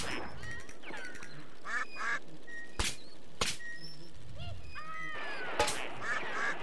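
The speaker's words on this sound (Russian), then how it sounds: "Уточки." Ducks quack repeatedly at moderate volume in the video game Datura, interrupted by a few sharp, sudden cracks like gunshots amid a low background.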